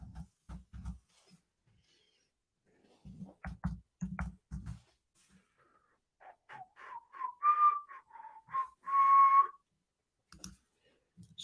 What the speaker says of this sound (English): Can't believe I just whistled.